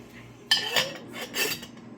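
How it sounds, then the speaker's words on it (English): A metal lid set down onto a cooking pan, with a sharp clink followed by a few rattling metallic knocks as it settles, close and clear with no talking. "go ahead and bring out your spoon and set it down and cover your pan with the lid"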